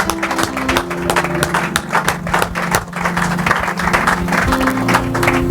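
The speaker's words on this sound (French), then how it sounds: "Est-ce qu'on peut donner une bonne offrande d'acclamation?" Loud applause from a church congregation, dense clapping throughout as a large gathering claps together, with a low sustained musical tone underneath.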